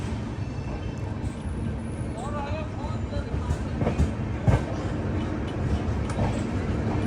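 AC Express train in 3AC class, travelling from Coimbatore, pulling into Hisar station: a steady low rumble with rhythmic wheel clacks throughout and faint voices nearby.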